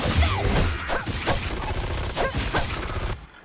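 Gunfire from Lady in the action game Devil May Cry: Peak of Combat, rapid shots and impacts cracking loudly and densely over game effects, with a softer tail at the end.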